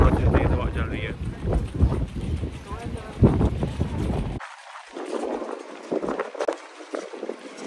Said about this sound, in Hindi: मेरे ख्याल में इसकी वजह से थोड़ा तेज हवा चल रही है